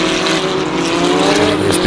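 Eurocup-3 single-seater race cars at Zandvoort circuit in wet, treacherous conditions, their engines droning loudly and continuously with rising and falling harmonic pitch, close to the listener.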